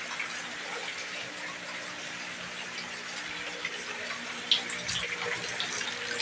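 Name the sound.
water running to refill aquarium during water change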